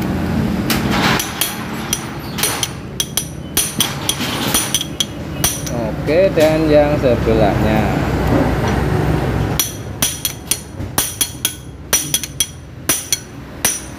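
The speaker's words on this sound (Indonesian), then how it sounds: "Contoh seperti ini, pegang di sini, kita palu seperti ini" A hammer taps a motorcycle part in a workshop, first in a muffled cluster, then in a run of sharp, evenly spaced metallic knocks close by, while someone talks between blows.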